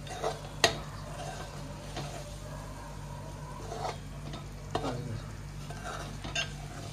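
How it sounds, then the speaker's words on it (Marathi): Ground spicy misal masala paste sautéed in oil over a high gas flame: a soft, fairly quiet sizzle under intermittent spoon scrapes against the pan, with one sharp clink near the start and a few brisker stirring strokes later, no talking. "आणि आता फास्ट गॅसवरती आपण हे वाटण परतवून घेऊया तेल सुटेपर्यंत"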